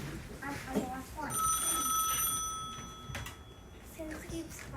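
An office telephone rings with a clear electronic tone, its bell sounding over ongoing classroom talk and ambient noise for a couple of seconds.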